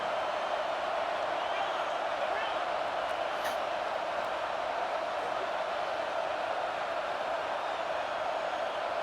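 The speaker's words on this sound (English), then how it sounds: "this home crowd is fired up and ready to make a difference" A fired-up home crowd roars steadily in a college football video game, a dense, constant wash of cheering that stays even and continuous throughout.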